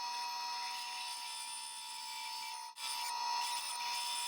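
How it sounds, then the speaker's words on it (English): A bandsaw cuts a wooden top rail for a jewelry box, giving a steady, fairly quiet, whining blade-and-wood hiss that holds level throughout, with one brief dropout near the end before the cutting resumes. "I can cut this portion out on the bandsaw."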